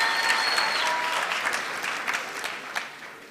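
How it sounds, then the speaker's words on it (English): A crowd applauds at a university graduation ceremony in Windhoek, a full burst of clapping that slowly thins and fades, with a few louder individual claps standing out near the end. "Can we give them a round of applause?"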